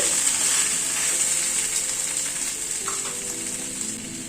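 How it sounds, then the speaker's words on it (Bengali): Pieces of pointed gourd are stir-fried in a pan with mustard and poppy seed paste, producing a continuous close sizzle with faint stirring scrapes and no voices. "পটলটাকে দিয়ে একটু 2 মিনিট নাড়াচাড়া করে নিচ্ছি।"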